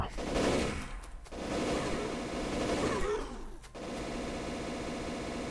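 Sustained rapid automatic gunfire from turrets in the factory-building game Factorio, a dense continuous rattle broken by two brief gaps, steady and fairly loud throughout.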